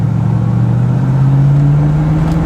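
A numbers-matching 1973 Chevrolet Corvette Stingray with a 350 engine accelerates from a green light, its loud, close engine rumble rising steadily in pitch as it pulls away, with no talking.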